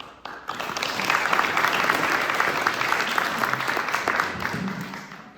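An audience breaks into steady applause at the start of an evening talk, a dense wash of clapping that rises quickly after a brief pause, holds for several seconds, then tapers off.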